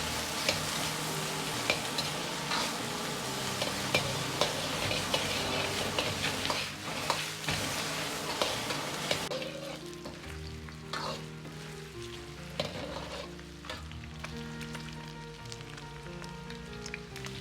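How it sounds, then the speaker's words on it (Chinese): Pork belly stir-fries in caramelized rock sugar over medium heat, a soft, steady sizzle broken by scraping stirs and clinks of the spatula, the frying quieting somewhat partway through. "保持中火炒匀糖色。"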